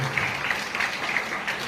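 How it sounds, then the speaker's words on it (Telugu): An audience at a church calendar launch claps together, steady loud applause throughout. "అందరూ చప్పట్లు కొట్టండి ఒకసారి"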